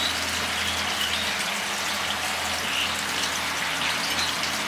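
Water pours steadily into a glass from a DIY cement ring water tank, a continuous close gushing splash with no talk.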